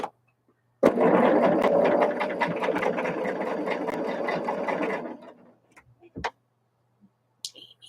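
A sewing machine stitches sashing onto a jelly roll sampler quilt block, running close and steady in a fast rhythmic whir for about four seconds before slowing and stopping, followed by a few faint clicks.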